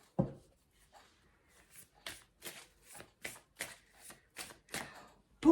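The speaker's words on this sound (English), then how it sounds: "I was shuffling, slammed me deck, not slammed, but placed my deck down." Tarot cards being shuffled by hand in a run of about ten crisp riffling bursts at a steady rhythm, close and fairly quiet, with a soft thump as the deck is set down at the end and no talking.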